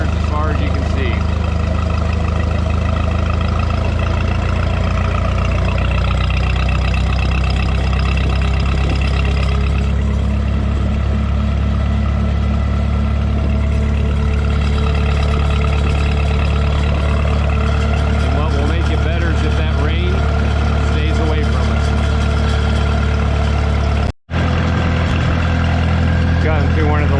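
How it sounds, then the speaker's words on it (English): A row of Minneapolis Moline tractors idles at a farm show, a loud, steady low-pitched engine drone that holds throughout with a brief dropout near the end, and people talk over it. "a row of tractors as far as you can see"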